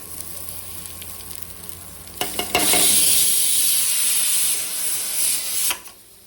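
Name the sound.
whole spices and onion frying in a pan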